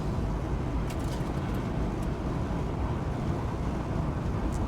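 A Holden HK car's engine runs steadily while driving through a main street, a continuous low rumble with road and wind noise and no voices.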